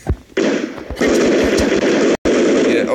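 Rapid automatic gunfire in a video game, loud and close, bursts of rattling shots with a brief pause before the fire resumes.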